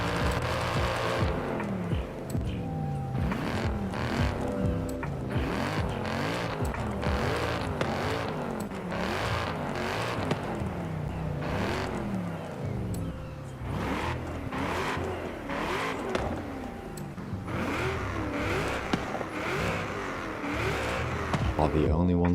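A car engine in the video game Forza Horizon 5 revs repeatedly, rising and falling in pitch, loud and close, with a voice talking over it throughout.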